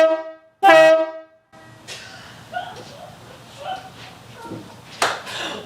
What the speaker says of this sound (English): This air horn sounds absolutely ridiculous